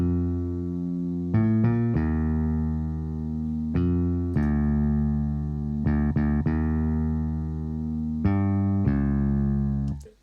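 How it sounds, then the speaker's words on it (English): Sampled classic bass guitar from Native Instruments Kontakt with a chorus effect, playing sustained notes that change pitch every second or so in a loud, smooth line, with nothing else heard. "It sounds like it's got a bit of a chorus on it, which is a bit of a classic thing for a bass guitar"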